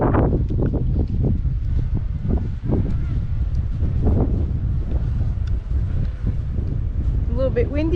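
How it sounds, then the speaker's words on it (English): Gusty wind buffets the microphone with a low, constant rumble, and a distant voice speaks briefly near the end. "A little bit windy"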